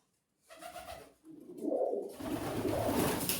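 Pigeons inside a stepwell coo in low, rolling calls from close range, starting after a brief silence and swelling into a dense, continuous cooing with no talking.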